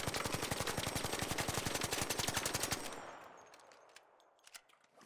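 Stitcher gun firing without a muzzle attachment in the video game ARC Raiders, a fast unbroken burst of sharp automatic shots lasting about three seconds, then a fading tail and a few faint clicks.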